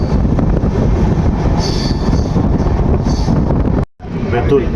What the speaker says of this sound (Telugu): ప్లాట్ఫారం 2లోకి అయితే మన ట్రైన్ అయితే వచ్చింది, అండమాన్ ఎక్స్ప్రెస్.